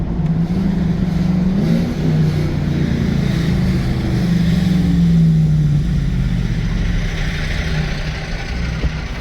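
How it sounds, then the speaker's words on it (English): A 2023 Ram TRX fitted with an AWE exhaust, heard from the cabin, gives a loud, deep engine drone that rises and falls through several manual downshifts over about nine seconds. "let's put it in manual. Do some downshifts."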